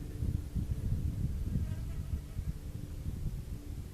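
Bees buzz steadily and close by in a low, continuous drone with slight wavering, forming one unbroken hum for the full length with no voices over it.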